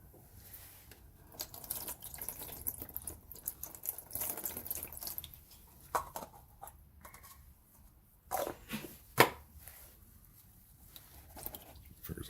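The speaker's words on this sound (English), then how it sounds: "Okay, wash this off one more time." Running tap water splashes as a metal part is rinsed after electrolysis cleaning, a fairly quiet, uneven stream with a few louder gushes and splashes toward the end.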